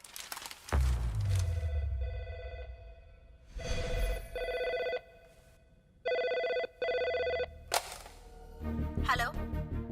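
A telephone rings in a dramatic film scene, loud electronic ring bursts in a steady on-off pattern, broken by a heavy thud and some vocal sounds near the end.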